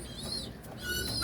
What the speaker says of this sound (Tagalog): Ito yung mga tinuturuan natin tumuka ng mga young bird.